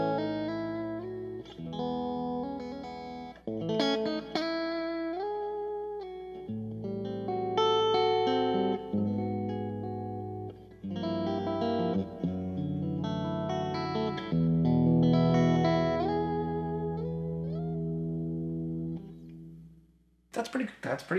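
PRS S2 Special semi-hollow electric guitar played through filter effects, sweeping chords and melodic lines with a swirling, modulated tone and lingering sustain, ending abruptly with a short burst of noise.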